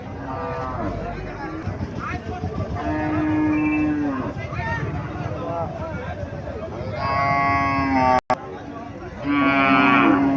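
Cattle moo repeatedly at a busy village cow market, several long lowing calls rising over a steady crowd babble, with one brief dropout in the noise.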